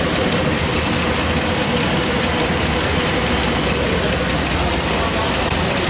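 A car engine idles roughly and unevenly after brake cleaner is sprayed, a steady low rumble with a faint irregular sputter recorded close by, no talk over it.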